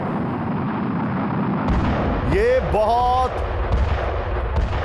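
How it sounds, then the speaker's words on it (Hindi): Rockets explode in news footage as a continuous roar of rumbling blasts and crackling, with a rising whistling streak in the middle; a voice speaks briefly over it. "but it's a rocket,"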